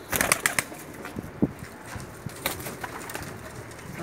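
Pakistani pigeons coo softly and flap their wings in short bursts, with a few quick wingbeat flutters and low cooing calls heard close by and fairly faint.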